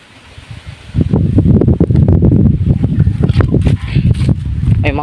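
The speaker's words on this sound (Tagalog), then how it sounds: "Ang lamig ng hangin." Cold wind blows across a farm field, rising suddenly after a quiet second into loud gusting rumble and buffeting against the microphone, with rustling throughout.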